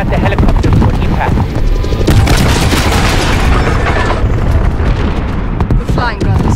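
A helicopter crash explosion during a Call of Duty: Modern Warfare (2019) airbase assault: loud, sustained booming blasts and rumbling debris fill the whole stretch, with dense battle noise throughout.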